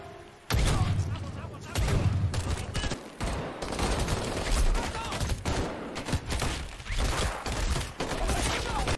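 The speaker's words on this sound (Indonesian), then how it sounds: "terjadi tembakan di sana" Dense bursts of gunfire crackle almost continuously, loud and close, with overlapping shots and booms and a voice faintly heard underneath.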